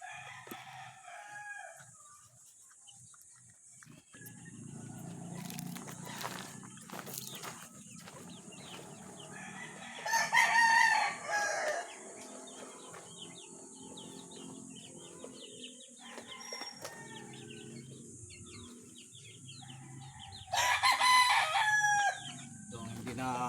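Chickens clucking and a rooster crowing in a Filipino backyard at feeding time, loud crows cutting through repeatedly over steady clucks and scratching, with no talking.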